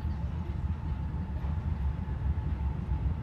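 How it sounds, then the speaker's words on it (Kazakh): A low, steady rumble of a diesel-locomotive passenger train from Pavlodar rolling into a station, continuous and fairly distant, with no voices standing out. "Ал міне пойыз келіп жатыр міне"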